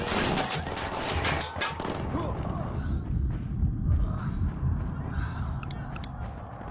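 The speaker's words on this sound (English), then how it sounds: "I'm opening fire on these shitheads." Gunfire in Ghost Recon Wildlands, a sustained dense burst of shots running throughout under speech, loud and close, with a few faint high metallic clicks near the end.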